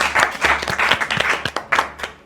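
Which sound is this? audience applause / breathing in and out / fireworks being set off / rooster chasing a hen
audience applause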